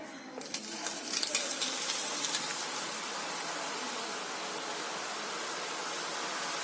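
Karapusa dough pressed into hot oil, a steady bright sizzle of deep frying that flares briefly at first, then settles into a constant hiss with no talking.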